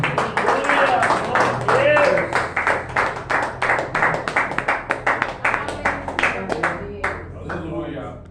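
A church congregation at an evangelical service claps in a rapid, rhythmic patter of individual hand claps, fairly close, with voices talking and calling out over the clapping.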